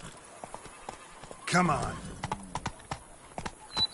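Horse hooves clip-clop steadily on the ground in The Witcher 3 video game, with a brief spoken line over the even, moderately close footfalls.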